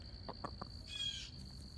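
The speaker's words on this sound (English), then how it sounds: "What's that bird saying?" On a chicken homestead, a bird gives a few short chirps and then a louder, drawn-out call over a faint steady tone, fairly close and with no talk.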